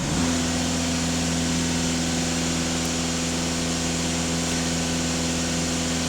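A Volkswagen Golf 2.0 TDI diesel engine runs loud and steady, held at about 2,500 rpm with a constant hum and no audible rise or fall in pitch.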